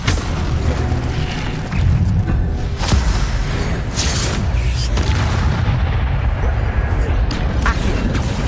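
The Incendio fire spell is cast over and over in Hogwarts Legacy: loud, dense booming bursts and fiery rumbles follow one another without a break, with a voice speaking on top of them throughout.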